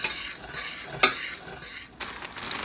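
Sugar is stirred into melted butter in a saucepan, with a spoon scraping and clinking against the pan and a soft sizzle beneath, including one sharp metallic tap near the start.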